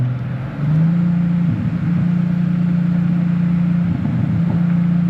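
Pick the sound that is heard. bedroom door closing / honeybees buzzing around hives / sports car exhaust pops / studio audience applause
sports car exhaust pops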